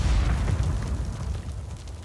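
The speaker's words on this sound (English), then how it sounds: "Mortar strike coming in." A mortar strike explodes with a heavy close boom in a battle royale shooter, its deep rumble fading over about two seconds.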